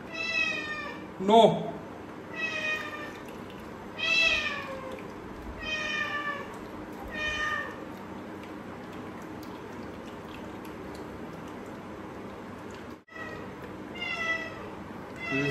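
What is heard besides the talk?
cat meowing outside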